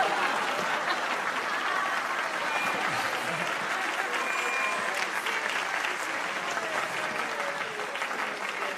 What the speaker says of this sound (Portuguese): Palmas para Noel Rosa, o filósofo